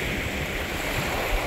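Lake Michigan waves wash against a rocky shore, a close, continuous rushing hiss of surf with wind noise buffeting the microphone.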